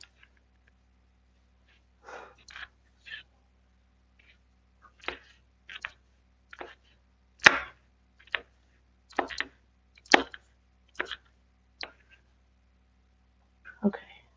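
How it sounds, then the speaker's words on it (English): Sharp, crisp knife chops through a sweet onion on a cutting board, about a dozen separate strikes spaced irregularly with quiet gaps between them, close and clear. "I cut up the entire sweet onion."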